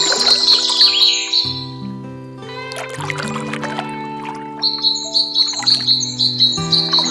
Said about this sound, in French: En silence, avec juste le chant des oiseaux, votre barque glisse lentement le long du canal